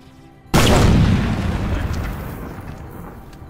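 A sudden loud shrapnel blast in Arma 3 erupts after a brief quiet moment, then rumbles and slowly fades away in a long, noisy tail.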